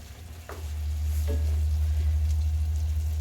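Sweet orange and yellow peppers cooking in a pan, a low even sizzle with a couple of faint scrapes over a loud steady hum from the kitchen.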